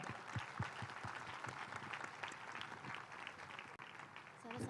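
Applause for children at a large Art of Living satsang gathering, a broad wash of clapping running steadily throughout, with voices and speech mixed in over it and a brief voice near the end.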